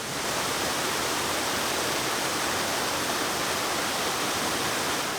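A waterfall beside a cave roars as a steady, dense rush of falling water, loud and close throughout with no voices.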